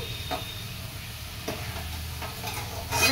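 Mutton pieces and potatoes sizzle in a pan on a home stove, giving a steady close frying hiss, with a few soft scrapes and knocks of stirring and no voices.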